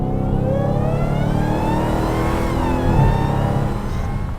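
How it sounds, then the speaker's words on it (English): A Dodge Challenger Hellcat Redeye with its supercharged 6.2-litre Hemi V8 revs loud and close, a steady sustained roar with rising supercharger whine layered over the engine's deep growl. "The supercharger sounds absolutely outrageous."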